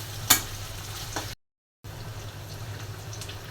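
Onion sizzles in a pan for a beef and prawn dish, with a steady frying hiss and a sharp scrape of the stirring utensil near the start. A brief full dropout cuts in before the sizzle resumes.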